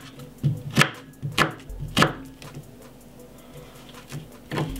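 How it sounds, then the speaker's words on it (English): A knife chops a white onion on a cutting board: a few sharp, close knocks in an uneven rhythm, a quieter pause, then another cut at the end. "I'm gonna simply cut off just a little piece of the white onion"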